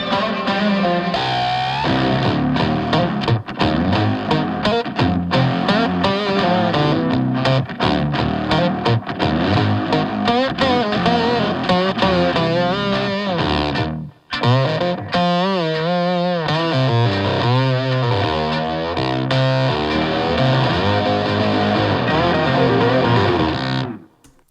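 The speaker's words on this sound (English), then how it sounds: "I was using the Infinite Jets and some other delay and just playing some lines, and then we reversed it" Electric guitar lines run through an Infinite Jets pedal and another delay, then reversed, giving a dense, loud, continuously swelling distorted wash with a brief dip near the middle before building again until a sudden cutoff.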